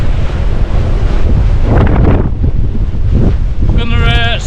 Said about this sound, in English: The wind just wants to take my bag